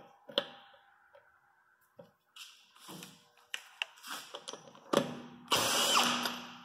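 A power tool with a Blue-Point flip socket spins a nut off, with clicks and taps before short bursts of whirring and a louder final run, close up.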